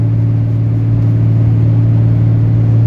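Ram 3500 heavy-duty pickup with a 6.7 Cummins diesel hauling about 28,000 pounds gross up a steep grade, its engine droning in a loud, steady low rumble from inside the cab.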